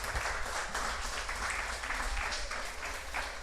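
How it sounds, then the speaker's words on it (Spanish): A church congregation applauds during a Spanish-language sermon, a dense, steady wash of many hands clapping at once, moderately loud and sustained, with no speech on top. "Den un aplauso al Señor"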